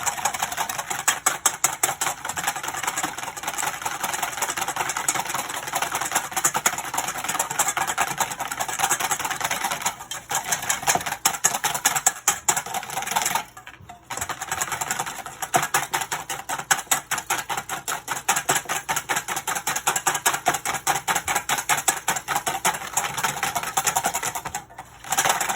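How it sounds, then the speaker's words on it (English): Batter for Earl Grey madeleines whisked briskly by hand until frothy, a steady, dense stream of rapid scraping and clicking against the bowl lasting the whole stretch with only a couple of brief pauses, close up and with no talking. "I'm gonna whisk it till it's frothy, about a minute"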